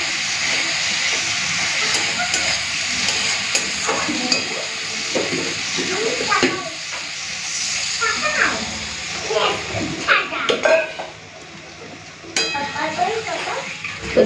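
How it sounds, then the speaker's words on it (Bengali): Water poured into a pan of softened tomatoes sets off a loud, steady sizzle and hiss with stirring and scraping against the pan, and a voice is heard now and then. "টমেটোগুলো নরম হয়ে গেছে, দিয়ে দিই জলটা।"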